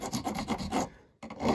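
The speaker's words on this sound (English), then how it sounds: "Now I'm just gonna go around with a file just to clean up the edges as well." Metal file rasping along the edges of a brake caliper rewind tool, several quick back-and-forth strokes close up, a brief pause, then filing resumes, with no talk.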